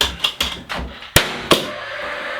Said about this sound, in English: We're going to shoot one nail straight down into it.